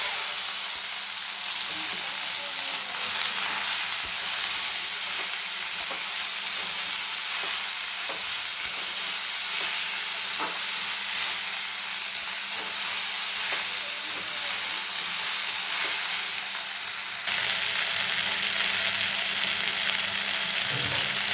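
Okra and potato pieces fry in a pan with a loud, dense sizzle that holds steady and close throughout, with occasional stirring scrapes and crackles and no talking.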